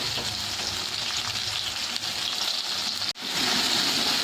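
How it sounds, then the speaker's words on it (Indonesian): Garlic sautés in a hot pan with a steady, close hiss of frying oil that carries on evenly, broken by a brief dip before the sizzle resumes a little louder. "Kita tumis sampai dia agak setengah matang."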